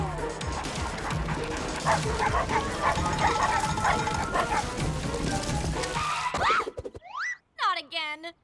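Dogs barking and yipping amid a busy, noisy scene, followed by a few clearer, closer yelps and whimpers near the end.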